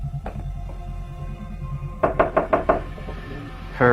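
Knuckles rap on a bedroom door: a single knock, then a quick run of about five firm knocks, close and clear against a quiet room.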